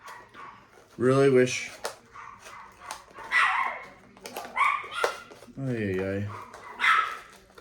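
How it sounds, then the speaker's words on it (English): Dogs in a home bark and yelp loudly and close by in several separate bursts, one with a whining, drawn-out tone, while someone speaks briefly between and over them. "our dogs are always barking and just being extremely obnoxious"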